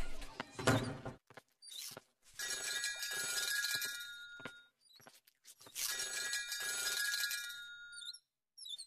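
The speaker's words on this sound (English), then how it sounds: "The phone is ringing." A cartoon telephone rings in two long bright trilling bursts with a short pause between, loud and clear over little else.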